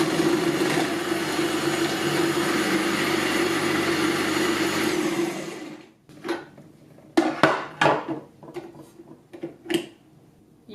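An Oster Versa Performance Blender rated at 1,100 watts, set to medium, slices cucumber through its slicing disc. The motor gives a loud, steady whir for about six seconds, then cuts out, followed by scattered clacks and knocks of handling.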